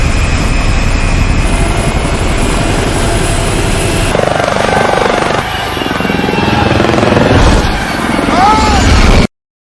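A helicopter roars loudly with thudding rotor blades and whining turbine, the noise shifting abruptly midway before cutting off suddenly as another helicopter loses control and crashes into it.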